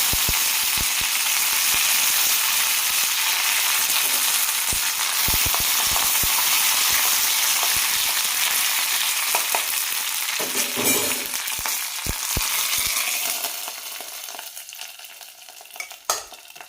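Mustard seeds and curry leaves tempering in hot oil give a dense sizzle dotted with sharp popping crackles, fading near the end to a quieter hiss with a last few pops; no talking.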